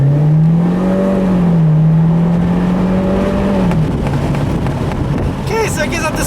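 A 2016 Buick Cascada's turbocharged engine drones and rises in pitch as it accelerates on a back road, heavy wind and road noise roaring over it; a voice briefly appears near the end.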